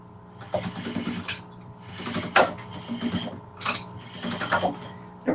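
A hand-cranked pasta machine clamped to a counter rolling out lasagna dough, with bursts of rattling, clicking gear mechanism in several separate passes and short pauses between them, close and fairly quiet, with no talk.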